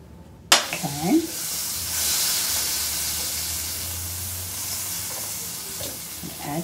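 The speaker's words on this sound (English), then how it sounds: "We're going to start out with butter. Put it in the pan." Butter sizzles in a pan, beginning with a sharp clank and then a steady hiss that holds and slowly fades, with brief faint voice sounds.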